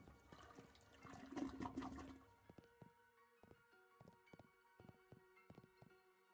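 A toilet flushes in the video game Shadows Over Loathing, a loud rushing gush of water over the first two seconds, then a scatter of small clicks and drips as it settles, with no one talking.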